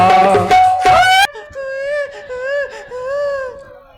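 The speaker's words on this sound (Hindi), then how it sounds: "महलों से छोटे छोटे शिशुओं के रोने की आवाज आई" Small infants cry in a Ramlila stage performance, with a short burst of loud wailing followed by softer, wavering whimpering cries that rise and fall, heard alone without talk.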